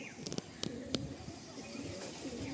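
Pigeons coo softly in a loft with other birds, low repeated calls mixed with sharp chirps and clicks under nearby background noise.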